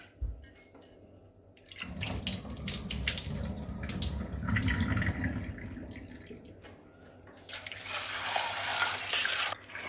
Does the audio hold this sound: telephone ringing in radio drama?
no